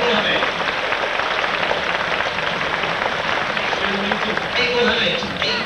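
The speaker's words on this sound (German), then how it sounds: "Der Beifall geht an meinen kleinen Komiker, an Herrn Ohrmann aus der Elbe-Vorstadt" Audience at a water ski show at Holiday Park, Germany, in 1984 applauding in a steady, dense wash of clapping, with a voice speaking over it near the end.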